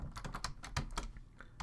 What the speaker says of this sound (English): I'm going to type in parentheses